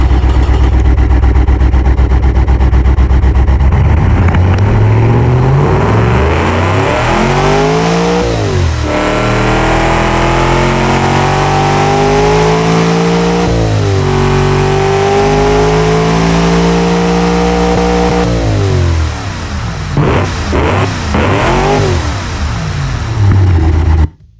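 A simulated Mopar 440 V8 without mufflers in the Automation game, revving hard and loud: a deep idle rises into repeated sweeping climbs and drops in pitch, with a raw, unmuffled roar throughout and no talking.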